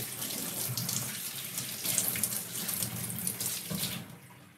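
Tap water runs steadily into a pot, about two cups for rosemary tea, a close, continuous splashing stream that tapers off at the very end.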